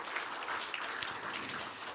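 A church congregation claps at a Sunday morning worship service, a soft, distant patter of applause lasting a couple of seconds with no voices over it.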